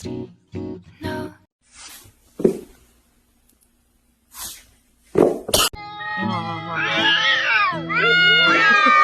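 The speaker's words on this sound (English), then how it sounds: "Cat." A cat meows several times after a stretch of short scattered sounds and a voice, ending in a loud, drawn-out, wavering yowl that carries on steadily to the end.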